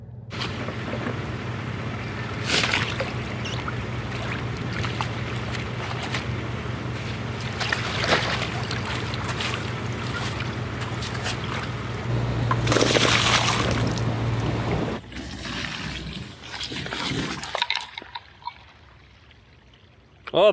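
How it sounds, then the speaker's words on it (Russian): Water drains through the self-bailer of a flat-bottomed inflatable jon boat under way, a steady rushing wash over a constant motor drone, with talk and louder splashing bursts near the end. "Вот так вот работает самоотлив."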